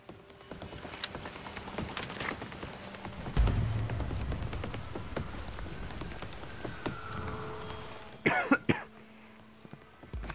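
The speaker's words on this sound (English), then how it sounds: "Excuse me, my cough is actually pretty bad." A person coughs in short bursts, the loudest cluster near the end, over rain-like background noise and Battlefield 4 campaign game sounds set in Shanghai.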